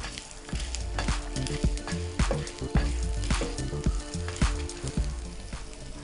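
Dried red chillies fry in hot oil for a restaurant-style Chicken Majestic, giving a steady, close sizzle and crackle with occasional clinks and thumps of stirring, and no voices.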